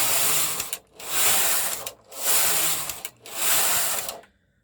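A knitting machine carrying crystal yarn sweeps across its needle bed in four steady back-and-forth passes, a continuous mechanical rattling whir that swells and dips with each row before stopping.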